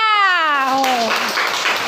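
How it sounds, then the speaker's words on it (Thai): Classroom applause for a student in an English vocabulary quiz, a burst of clapping and cheering that follows a sliding high-pitched voice, dense and close, filling most of the clip. "ปรบมือให้เพื่อนค่ะ"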